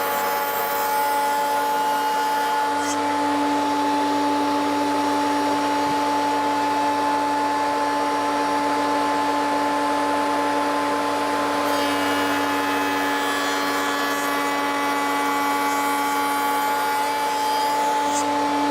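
A router table cutting tongues on the ends of shaker door rails, a loud steady high-speed whine with a dust-extraction roar, and the pitch shifts slightly as the bit engages the wood.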